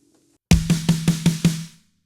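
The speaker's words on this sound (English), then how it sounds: "just doing these 6 notes on the snare, and it would just sound something like this" Six evenly spaced snare drum hits in a quick triplet rhythm, played close and crisp, with a short ring fading after the last stroke.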